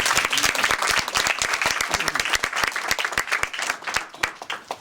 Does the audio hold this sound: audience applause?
yes